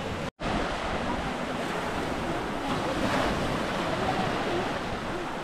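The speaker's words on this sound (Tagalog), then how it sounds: "Ayan ang dagat oh." Sea waves wash steadily onto a beach, a constant loud broadband surf roar with wind noise buffeting the microphone and a brief dropout near the start.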